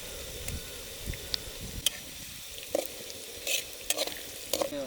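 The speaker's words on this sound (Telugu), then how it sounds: "అల్లం, మిరపకాయలు అన్నీ కూడా బాగా ఫ్రై అవుతున్నాయి చూడండి" Garlic, ginger and green chilies fry in hot oil with a steady low sizzle, punctuated by occasional scrapes and clinks of a stirring spoon in the pan.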